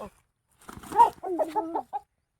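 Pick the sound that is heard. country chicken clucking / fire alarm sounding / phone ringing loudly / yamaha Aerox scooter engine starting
country chicken clucking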